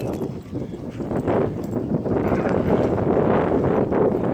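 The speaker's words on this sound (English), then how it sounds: "it's windy out, can you tell?" Steady wind gusts buffet the microphone, producing a rough, continuous rumbling roar that swells and stays loud.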